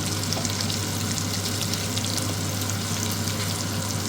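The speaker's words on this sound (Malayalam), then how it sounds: "വറുക്കാനൊക്കെ ആയിട്ട് കുറച്ച് സമയം എടുക്കും." Prawns coated in salt, turmeric and chili powder sizzle in hot oil in a continuous, even, close-up crackle that holds at the same loudness throughout, with no voices.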